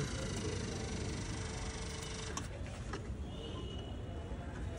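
The electric AC compressor motor of a Tata Tigor EV runs with a steady, dense mechanical hum and whir, faint but continuous, with no talk.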